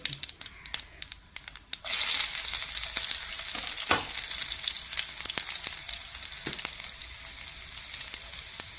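Small onion frying in oil with mustard seeds in a pan: light crackles and pops at first, then a sudden loud sizzle as it goes in, settling into steady frying with occasional stirring clicks.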